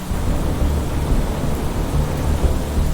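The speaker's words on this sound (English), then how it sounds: "It's raining! Oh, I'm sorry. That's so cool though." Steady rain with rumbling thunder in the video game Planet Crafter, a loud, dense wash of downpour noise with deep rolling low rumbles, continuous and alone without talk.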